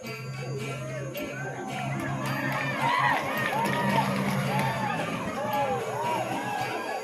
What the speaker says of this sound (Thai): โอ้เชียร์กันสนุกเลยครับ